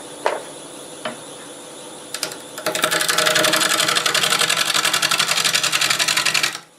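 A wood lathe spins a maple burl while a 5/8 bowl gouge starts rounding it, beginning with a few knocks and then a loud, rapid, continuous chattering cut that lasts about four seconds before stopping.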